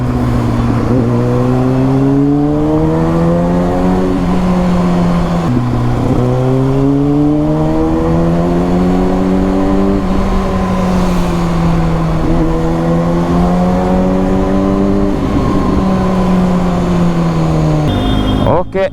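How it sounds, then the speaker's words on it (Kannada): A Kawasaki Ninja ZX6R motorcycle is ridden hard with a quick shifter, its engine note climbing loud and close through repeated rising rev sweeps, with brief dips at each quick gear change. "ಈ ರೆವ್ ಮ್ಯಾಶ್ ಮಾಡ್ಕೊಂಡು ಕ್ವಿಕ್ ಶಿಫ್ಟರ್ ಯೂಸ್ ಮಾಡ್ಕೊಂಡು ಹೋಗ್ತೀವಲ್ಲ"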